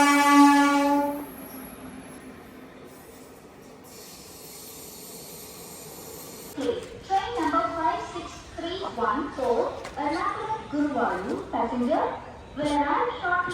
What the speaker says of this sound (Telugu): ఇది ఒక ప్యాసింజర్ ట్రైన్